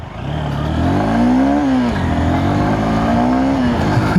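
A Honda Hornet 2.0 motorcycle pulls away in first gear, its engine rising in pitch twice in close, loud revving surges with a brief dip between them.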